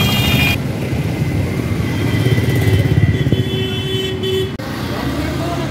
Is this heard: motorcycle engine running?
yes